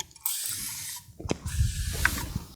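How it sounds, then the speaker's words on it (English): A few short hissing spray bursts from a pump spray bottle onto hair, close by, with quiet handling noises between them. "So I'm just going to go back in with my spray bottle and give this a good, generous spray."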